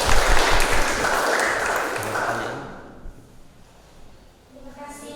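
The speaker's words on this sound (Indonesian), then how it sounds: "tepuk tangan untuk kelompok 2." Applause from a classroom audience for a student group during a broadcasting and film teaching session, a loud burst of clapping that fades over a few seconds into quieter room sound.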